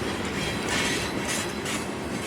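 A CSX freight train rolls steadily past with a cut of rock cars, giving a continuous loud rumble of wheels on rail with rising and falling clatter, close by and without talk.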